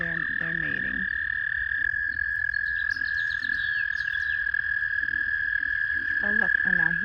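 A chorus of frogs in mating season gives a constant high trilling song, with bursts of deeper croaks from nearby frogs breaking in now and then. The sound is moderately quiet and outdoors, and no one speaks.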